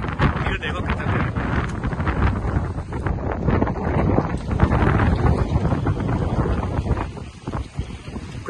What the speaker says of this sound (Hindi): हवा देखो कितनी है इतनी हवा है कि बोट अभी तक निकली भी नहीं है